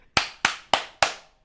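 Four sharp hand claps in an even, quick rhythm, close and crisp, each one decaying fast, clapped to switch on a Clapper sound-activated switch.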